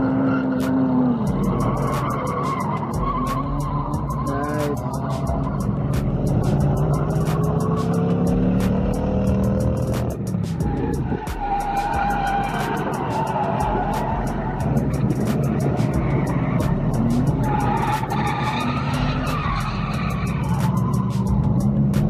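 A BMW drift car at the Highland Drift Bash, its engine roaring and bouncing off the limiter while tires squeal and skid, loud and continuous for over twenty seconds with other cars audible nearby.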